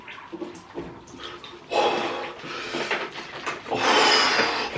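A person plunging into a bathtub filled with cold water and ice cubes: splashing and sloshing bursts, with water churning loudly in two main surges and quieter rubbing and dripping between.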